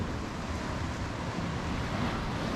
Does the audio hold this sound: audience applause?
no